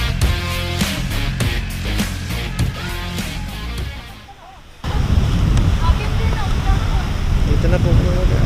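Strong wind and breaking surf at the Seabay beach in Elyu, with heavy gusts buffeting the microphone. A short musical passage plays first, then the roar of wind and waves takes over loud and steady.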